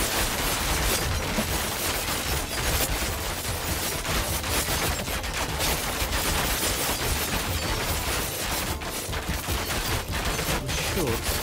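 Archers firing volleys of arrows in the video game Thronefall, a dense continuous clatter of loosed shots and battle noise filling the whole stretch at steady loudness.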